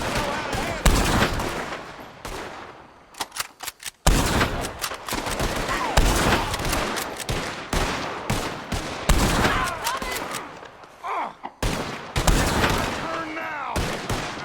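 A gunfight with O'Driscolls in Red Dead Redemption 2, repeated sharp gunshots cracking in irregular bursts over fourteen seconds, loud and close, with shouted voices mixed among the shots.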